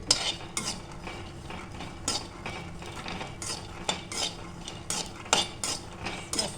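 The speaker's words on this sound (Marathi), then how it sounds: "असे अंदाडे तडतडतात चांगले बघा आवाज येतोय ना" Irregular crackling and popping in a hot pan, sharp snaps scattered over a steady low background, close by with no voices.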